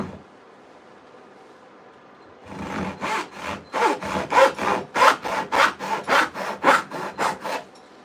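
A freshly sharpened handsaw cuts through wood in about a dozen fast, rhythmic rasping strokes that get louder and more regular, after a quiet background stretch at the start.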